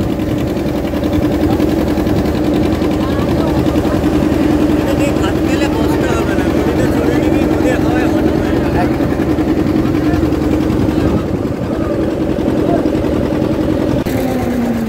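Steady drone of a boat engine on a journey through the Sundarbans waterways, continuous and fairly loud throughout, with voices talking over it at times.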